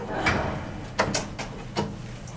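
A Kone hydraulic elevator door slides shut over a low background hum, with a soft rolling swish followed by a few sharp clunks and knocks as it closes, close by, with no talking.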